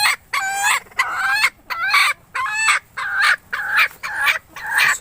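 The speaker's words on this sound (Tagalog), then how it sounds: "At ito na yung dalawang hen natin mga kanokis." Japanese bantam chickens calling in a rapid, loud series of about ten short, harsh clucks and squawks close by, evenly spaced with brief gaps, with no talking.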